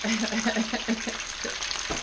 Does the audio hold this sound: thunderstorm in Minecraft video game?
no